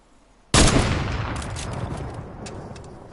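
A single loud gunshot in the Fortnite video game bursts out after a short quiet moment, followed by a long decaying rumble, with faint higher clicks and game sounds trailing behind.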